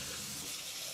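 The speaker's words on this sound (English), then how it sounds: "Then you put cold water so it stops cooking" Running water pours in a steady, continuous hiss, like a tap flowing into a sink, close and fairly quiet.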